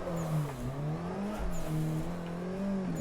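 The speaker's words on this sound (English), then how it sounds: "You end with that handbrake turn" A car drifting, engine droning with rising and falling pitch as it slides around, fairly loud and steady throughout with no talk.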